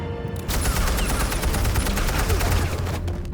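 Rapid, continuous gunfire in the video game Telltale's Batman, a dense fusillade of shots rattling loudly for several seconds with a faint voice underneath.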